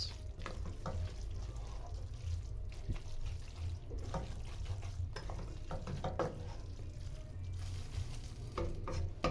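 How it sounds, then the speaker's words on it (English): Spaghetti being mixed through a minced meat Bolognese sauce in a pan, giving soft repeated scraping and squelching stirs over a low steady cooking rumble, with occasional sharper clinks of the utensil; no one speaks. "You mix it until the spaghetti and the sauce, minced meat sauce, is well combined."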